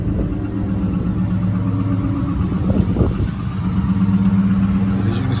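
A Chrysler 300 on 24-inch Rucci wheels with a muffler delete idles after a cold start in freezing weather, a loud, steady low engine rumble with a brief rise near the middle, close by.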